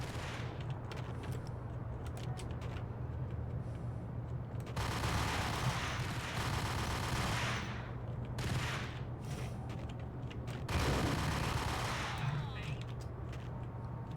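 Gunfire in a video game with overpowered guns, heard as rapid bursts of shots in two louder stretches over a steady low hum, with quieter firing between them.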